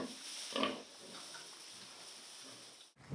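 Pigs grunt in a farm shed, with a louder grunt early and softer snorts after it, heard faintly from a short distance with no talking.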